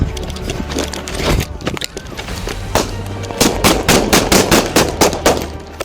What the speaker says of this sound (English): Gunfire erupted in the narrow street.